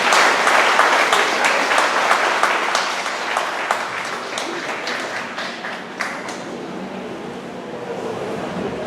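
An audience applauds students at a 2022 Hui Okinawa children's culture day camp: dense, steady clapping that begins loud and full and gradually thins and softens over about nine seconds, with no one speaking.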